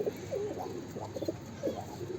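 A male pigeon coos repeatedly in low, throaty, rolling calls, close by and steady over a faint background hiss.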